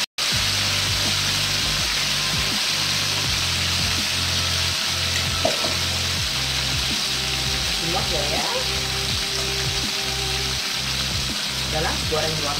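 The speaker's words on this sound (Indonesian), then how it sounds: "Goreng hingga matang." Chicken frying in oil until cooked sizzles loudly and continuously, a dense steady crackle with a rhythmic low scraping of stirring beneath and a few brief spatters, no talking over it.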